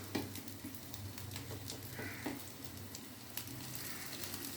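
Fat fritters frying in hot oil give a steady, close sizzle with soft crackles and faint patter throughout, with no voices over it.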